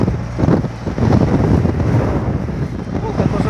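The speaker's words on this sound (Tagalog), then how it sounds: "Kusog sa hangin." Strong wind in Tondo, Manila buffets the microphone in a constant loud, rumbling roar.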